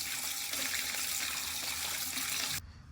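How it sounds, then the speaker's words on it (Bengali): Steady gush of tap water pours into a kitchen sink as fish is rinsed, running loud and continuous for over two seconds before cutting off abruptly near the end. "তো এখন আমার মাছ ধোয়া কমপ্লিট।"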